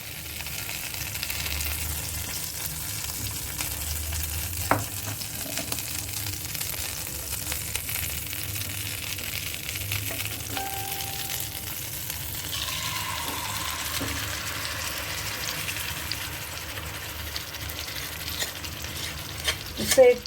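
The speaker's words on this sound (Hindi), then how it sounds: "इसके अंदर हम मटन को तब तक भुनेंगे जब तक कि वो ड्राई नहीं हो जाता" Mutton frying in ghee in a pan, a continuous crackling sizzle with steady stirring and occasional scrapes and clinks, fairly close and even throughout.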